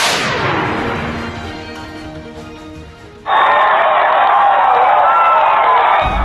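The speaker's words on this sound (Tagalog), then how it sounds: "Dumagundong ang hiyawan sa paligid ng Al Arabi Football Stadium noong Biyernes" A crowd roars and cheers at a friendly football match at Al Arabi Stadium in Doha. A loud blast fades, then a dense, steady wall of cheering surges in and holds.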